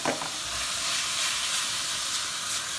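Onions frying in a pan with garlic for a budget tagliatelle bolognese, a constant hissing sizzle with a brief stir at the start, close and steady without speech.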